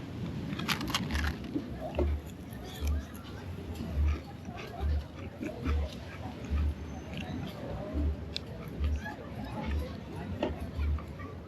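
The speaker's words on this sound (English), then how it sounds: "it goes really, really crispy, and it is absolutely delicious. Listen to this crunch" Repeated crisp crunches from biting and chewing a rolled, crispy Nutella and banana marquesita, an evenly spaced series of close bites over a busy street crowd with people chatting.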